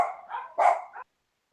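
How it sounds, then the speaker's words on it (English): A few quick, close dog barks in a short burst, loud and clear against otherwise quiet surroundings before cutting off to silence. "Yeah, the dogs are barking"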